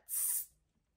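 One short, soft hiss of Dior perfume spraying a fine mist from an atomizer, close by and quiet, lasting under half a second.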